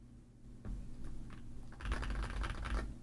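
Keystrokes on a modded Wooting 60HE+ magnetic keyboard, a quiet opening followed by a sparse run of light clacks and then a dense, fast burst of typing, close and clear with no voices.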